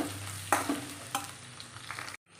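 Onions and curry leaves fry in a pan with a bright, crackling sizzle, punctuated by a few scraping stirs before the sound cuts off abruptly.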